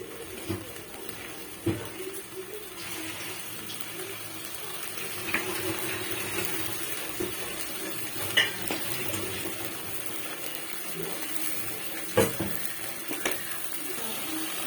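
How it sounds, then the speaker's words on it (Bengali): Spice paste for a pointed gourd and poppy seed curry being sautéed in a pan, with a steady low sizzle, soft stirring scrapes and occasional sharp clinks of a spoon against the pan. "এটা দিয়ে এখন ভালো মতো মশলাটা কষিয়ে নেব"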